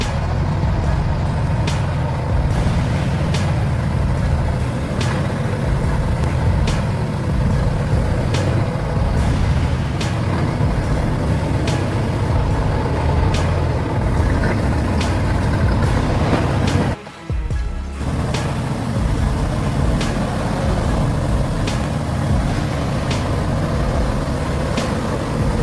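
A heavy truck hauling 15 metric tons of timber through mud, a loud, continuous engine roar with rhythmic mechanical knocks and a short dip near the end, no talking.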